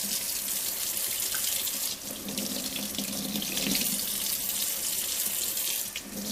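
Tap water from an ozone water purifier runs steadily into a sink, the splashing shifting and breaking as a hand passes through the stream.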